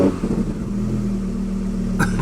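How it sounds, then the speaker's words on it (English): An Audi R8 engine starting up on a fresh ECU tune, a deep steady idle rumble that holds evenly, with a brief sharp click or crackle near the end. "first startup with the tune"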